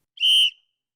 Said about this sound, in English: Refs blow the whistle prematurely.